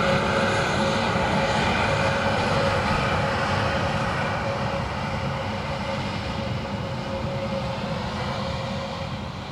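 A Turkish Airlines airliner landing at Dublin Airport, a loud steady jet engine roar with a faint high whine, holding broadband and unbroken for the whole stretch and easing off only slightly toward the end.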